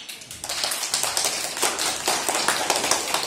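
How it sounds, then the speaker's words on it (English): Hands clap in a quick, even rhythm, a run of many sharp claps close by with no talking over them. "Clap your hands."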